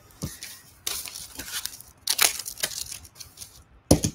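Scissors cutting 70 lb steel wire cable: several crunching, snipping bursts in an uneven rhythm, close and fairly loud, with a final sharp snap at the end.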